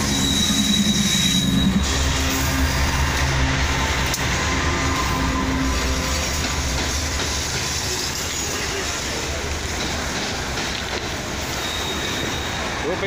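A train rolls past on the railway close by, loud and continuous, its wheels squealing on the rails with a steady rumble throughout, and faint voices now and then underneath.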